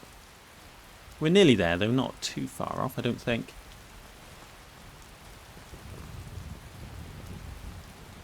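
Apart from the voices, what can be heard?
rain in the video game Skyrim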